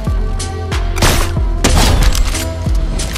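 Sharp, booming sniper rifle shots in a video game crack loudly a few times in quick succession, each with a short echoing tail, over a steady game background.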